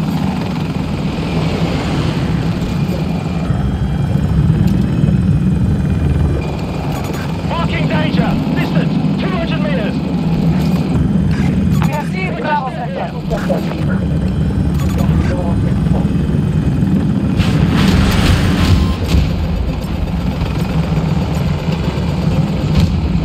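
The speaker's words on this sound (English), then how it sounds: "spotted enemy helo. Distance 300 meters." Enemy helicopter in the Battlefield 2042 video game: a loud, continuous rotor and engine drone fills the whole stretch, mixed with in-game voice callouts and other battle noise.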